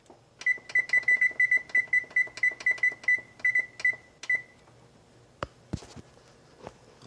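A kitchen oven timer chirps out a rapid series of high, clean beeps in quick clusters for several seconds, followed by a few sharp clicks and knocks as it is set.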